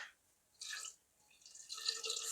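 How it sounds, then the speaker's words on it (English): Water poured into a jar of salted lemons being preserved, arriving in two splashing bursts with a quieter pause between them, close and moderately loud. "maybe another 2 cups of water will fill this"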